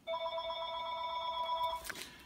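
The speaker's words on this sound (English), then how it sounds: "that's probably a phone call for dinner." A telephone bell rings in one sustained trill lasting nearly two seconds, moderately faint and in the room, then stops, leaving only a soft rustle of background noise.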